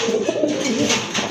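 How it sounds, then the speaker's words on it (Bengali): A pair of big, top-class black-necked pigeons coo in a low, continuous burbling close by, with no talk over them. "এক জোড়া বিগ সাইজের টপ ক্লাস এক জোড়া কালো গলা কবুতর"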